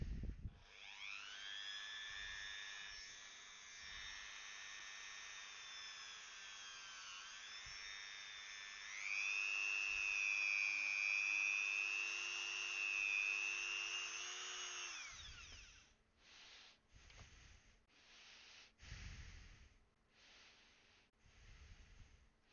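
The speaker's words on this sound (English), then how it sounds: "We'll just take the Dremel." Dremel rotary tool cutting thin cosplay foam for a cyberpunk costume. A high-pitched whine rises and holds for about fifteen seconds and then stops, followed by several short bursts of cutting. It sounds close and fairly quiet.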